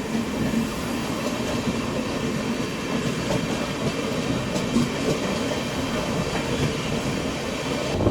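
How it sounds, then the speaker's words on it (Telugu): A passenger train on railway track, on the Amrit Bharat express run out of Charlapalli, rumbles steadily throughout with continuous rolling wheel and carriage noise, close and fairly loud. "ఇక్కడ ఒక ట్రైన్ సిగ్నల్ కోసం వెయిట్ చేస్తోంది"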